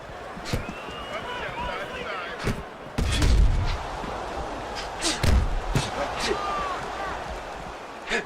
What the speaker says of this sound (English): There's the headshot, but he parries it away.